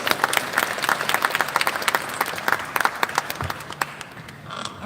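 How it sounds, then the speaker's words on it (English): A large audience at a university book launch breaks into sustained applause, dense clapping from many hands with sharp individual claps on top, fading slightly toward the end. "Let's give her a round of applause."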